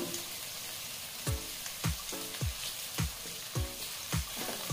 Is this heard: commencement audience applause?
no